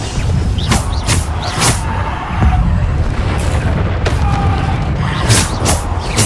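Bombarda explosion spells go off in Hogwarts Legacy: loud, repeated booming blasts at an uneven rhythm over continuous busy game noise.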